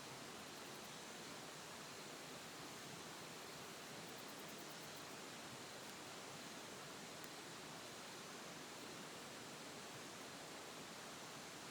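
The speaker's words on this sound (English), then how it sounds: "Sound of water, the sound of water, the sound of the deepest, deepest ocean within, of the calmest lake" Steady broadband rush of flowing water, even and continuous throughout, like a stream or small waterfall heard up close with no pauses.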